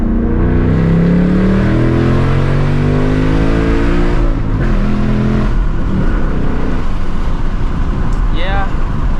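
A 2024 Mustang GT S650 with a six-speed manual revs hard through a pull, the V8 climbing in pitch across gear changes, loud and close from inside the car, with someone talking over it.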